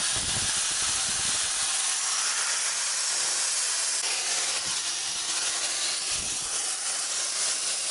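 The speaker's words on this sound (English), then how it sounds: "really using the flat of the disc here and just working away to remove all that flow coat" An abrasive grinder disc worked flat against a surface to strip old flow coat, giving a steady, loud broadband hiss that runs throughout without a break.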